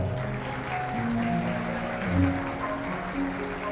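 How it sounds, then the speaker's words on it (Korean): Wedding guests applaud in a steady, moderately loud burst through the ceremony hall, with sustained tonal background sound running underneath. "여러분 박수 부탁드릴게요."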